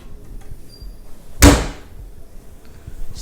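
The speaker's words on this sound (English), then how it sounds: "Slamming cabinets." A kitchen cabinet door slams once with a sharp, loud bang in a home kitchen during oven-baked fry preparation, followed by quiet room noise and faint handling sounds.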